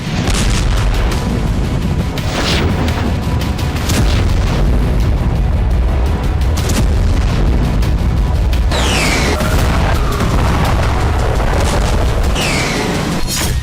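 Ukrainian drone strikes hit Russian targets, producing a loud, continuous barrage of heavy booms and blasts with sharp cracking bursts, layered over a constant roar across the whole stretch.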